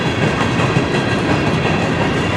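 A CN M384 northbound freight train rolls past close by in Port Huron, Michigan, its heavy wheel rumble and steady clickety-clack filling the whole span without any talk.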